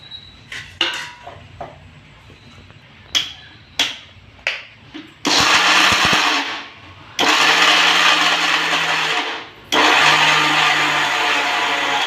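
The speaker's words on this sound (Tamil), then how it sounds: "இதெல்லாம் சேர்த்து நல்லா கொஞ்சம் கொரன்னு அடிச்சுக்கலாம்" A blender coarsely grinds almonds and flax seeds for a badam laddu in three loud, sustained bursts, with short clattering pulses and pauses before them.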